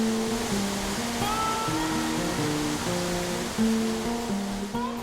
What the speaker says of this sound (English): It's got very loud background noise because the creek is raging right out there, right out in front of the cave